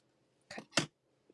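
Ribbon tails being snipped with scissors while crafting a stamped card, two quick close cuts in succession, followed by a faint small tap.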